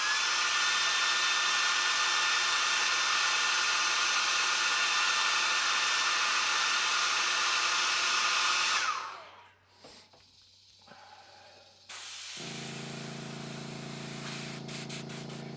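A hair dryer blows steadily and loudly on fresh airbrushed paint on a custom crawdad crankbait lure for about nine seconds, then switches off, leaving brief quiet clatter before an airbrush hiss starts up.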